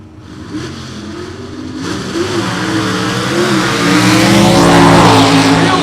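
Drag racing cars at a night event launching off the line, including a factory Drag Pack Challenger Superstock car, with engine roar building steadily and growing louder over several seconds, close and dominant.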